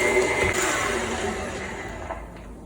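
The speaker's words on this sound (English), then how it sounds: "So now we just mix these up together before we add the sausage" An electric mixer whirs steadily as it blends honey with other ingredients for sausage-stuffed honey buns, a loud, continuous motor drone with no talking.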